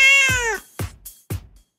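A cat meows loudly and close by: one long drawn-out meow followed by two shorter, clipped calls, with no talking over it.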